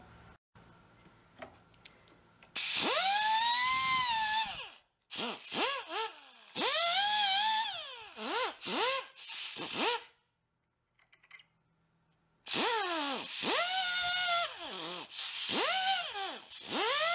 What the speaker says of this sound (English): let's go clean these threads up